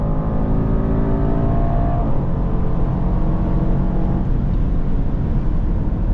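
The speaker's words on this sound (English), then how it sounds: "The V8's always ready to go as soon as you downshift it, or just full throttle here." A 2026 Mercedes GLE 63 S AMG V8 accelerating at full throttle on the German autobahn, a loud continuous engine roar heard from inside the cabin, rising through a gear change.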